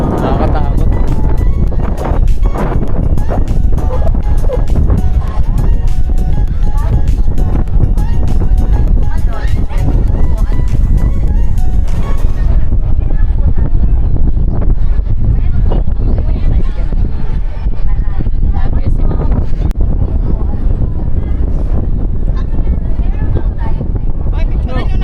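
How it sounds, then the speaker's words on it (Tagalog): Loud, constant wind buffeting the microphone in a roaring rush that never lets up, with voices talking underneath, at Montemaria in the Philippines. "Ang lakas ng hangin."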